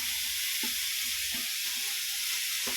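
Dried red chillies and coriander fry in hot oil with a constant close sizzle, broken by a few soft stirring knocks in the pan.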